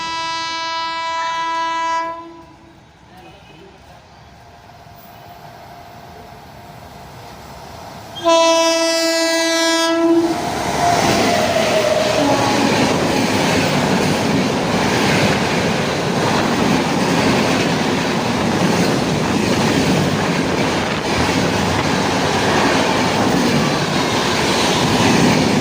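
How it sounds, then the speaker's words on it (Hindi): A train arriving at Nagina railway station in India: a loud horn sounds in two long blasts, then the train rumbles and clatters steadily close by, with no talk. "अभी कोई तो ट्रेन आ रही है यहाँ पर।"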